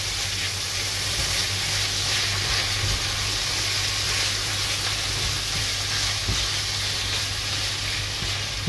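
Garlic fries and is stirred in a pan, giving a steady loud sizzle and hiss throughout with faint scraping knocks from the stirring.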